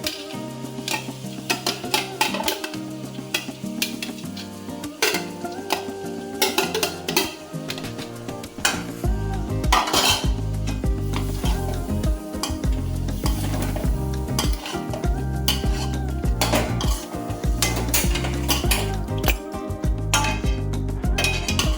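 Marinated paneer and cooked vegetables stirred in a pan for a paneer roll, with steady frying sizzle and scraping of a utensil against the pan, growing louder and denser after the paneer goes in.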